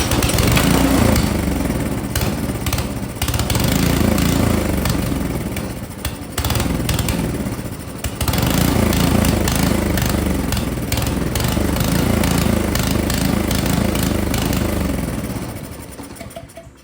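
An Ariens Deluxe 28 snowblower engine runs on full choke, a loud, steady close-up drone with a rough uneven beat, briefly dipping twice before fading near the end.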